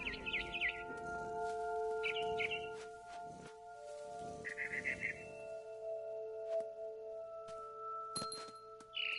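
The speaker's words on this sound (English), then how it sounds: "Then I heard chirping outside my window. It was a barn swallow going back to her nest." A barn swallow in What Remains of Edith Finch gives several short, bright chirping bursts spaced a couple of seconds apart, fairly faint over a tonal musical background with no talking.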